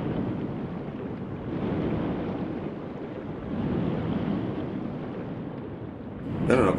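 River water rushing steadily in the Sekiro video game, a broad loud wash with gentle swells and a brief bright chime at the end.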